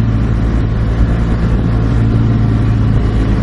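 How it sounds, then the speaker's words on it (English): A BMW R 1200 GS Adventure motorcycle pulls away under throttle, a loud steady engine drone with a low rumble, close and continuous for a few seconds. "you give it enough gas and it's gonna go."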